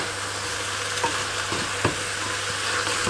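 Ingredients cooking in a pan with stock being stirred, giving a loud, constant sizzle with scraping strokes at intervals and a low hum beneath, and no one talking.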